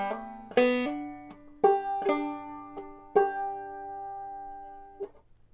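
A clawhammer banjo plays a few pickup notes and then the first measure of "Quail is a Pretty Bird," bright plucked notes ringing over a steady brushed strum, solo and close.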